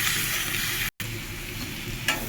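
Masoor dal fries with tomatoes, green chilies and other ingredients in a pan, giving a loud continuous sizzle as it is stirred close up, with a brief gap in the sound partway through.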